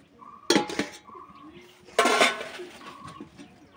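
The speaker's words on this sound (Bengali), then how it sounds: "এই থালাটা একটু চাপা দিয়ে দিচ্ছি।" A metal plate set down as a lid over a cauliflower and prawn curry cooking in a pan, giving two sharp clattering clinks about a second and a half apart, close and fairly loud, with quieter rattles in between.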